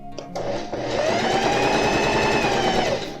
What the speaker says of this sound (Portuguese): Vamos costurar aqui.